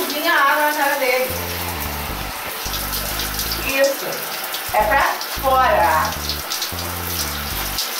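Water splashes and trickles while a poodle is bathed in a tub, intermittent sloshing and pouring, close and fairly loud, with people talking over it.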